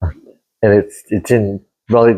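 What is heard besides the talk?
No distinct noise like a dog, phone or traffic.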